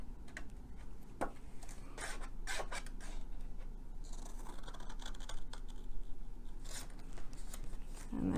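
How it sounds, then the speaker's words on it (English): Scissors snipping a paper treat box along a diagonal, close and fairly quiet: a run of short crisp cuts and paper rustles spread unevenly across several seconds, with no talk. "Cut it on a diagonal. That's why I love these scissors for this."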